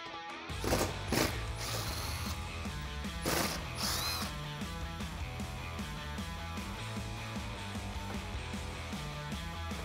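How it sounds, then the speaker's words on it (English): A ratcheting socket wrench with an 8mm socket clicks rapidly as it backs out screws on a Jeep Gladiator JT splash shield, with a few sharper metallic clanks early on, close and unaccompanied by speech. "I'm going to use an 8mm socket to remove the 2 screws down at the bottom"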